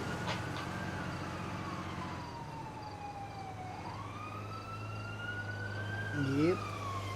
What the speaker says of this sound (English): There go the sirens.